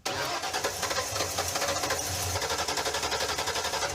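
A car engine idles steadily right after being jump-started with a multimeter, after a fuel-line fault: a loud, close, continuous rumble with a fast even pulse that holds for several seconds, with no talking.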